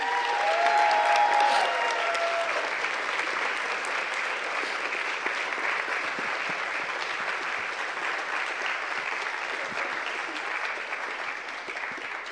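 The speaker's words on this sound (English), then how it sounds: "please, one big applause for this great OC again" Audience applause for an event's organising committee, a steady, sustained wash of clapping lasting throughout, with a brief tonal sound near the start.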